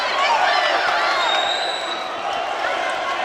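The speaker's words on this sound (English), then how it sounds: "the crowd are on fire here at York Hall" A boxing crowd cheers inside York Hall during a live fight night, a dense, loud roar of many voices that stays strong and unbroken.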